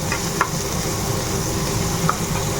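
Vegetables for shukto fry in a pan with a steady sizzle, and a spoon stirs them with occasional light scrapes and taps.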